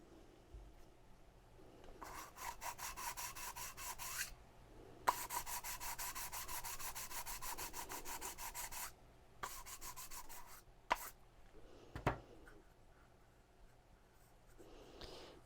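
The gasket surface of a thermostat housing for a C3 Corvette 5.7-liter engine being cleaned by hand, long stretches of steady fast rubbing and scrubbing broken by pauses and a few light knocks, close but quiet, with no talking.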